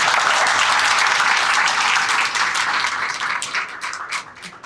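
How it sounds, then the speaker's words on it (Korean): Loud applause from an audience of young people at a political talk in Daegu, a thick burst of clapping close by that gradually thins and fades into scattered claps. "박수"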